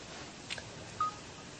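Samsung Jet S8000 touchscreen phone giving a short, clear electronic feedback beep from its on-screen keyboard, a single tone heard alone over quiet background hiss.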